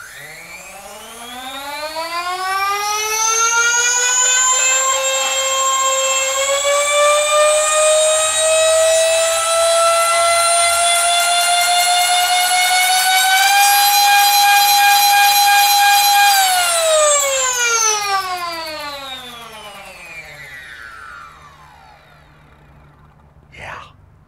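A modded Nerf Rayven blaster's flywheels whine upward in pitch for several seconds, hold a loud, steady high tone, then wind down smoothly with no voices.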